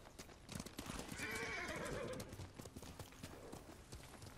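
A horse in the game Ghost of Tsushima walks slowly with steady clip-clopping hooves, and a loud whinny rises over the footsteps midway; the hoofbeats keep a close, even rhythm.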